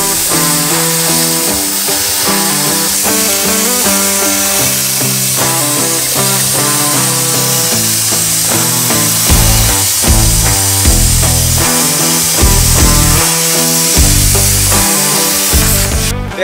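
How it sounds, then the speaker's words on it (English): A freehand plasma cutter traces a squiggly cut through rusty steel, giving a loud, continuous hissing roar that holds steady for the whole stretch and swells slightly near the end, with no talking. "I'm going to try and do a squiggly pattern down here with the plasma cutter"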